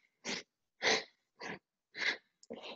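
Five rhythmic breaths, each a loud, close, airy rush of about half a second with short silent gaps between, paced inhales and exhales during a Kundalini yoga exercise with hands on the shoulders and elbows raised.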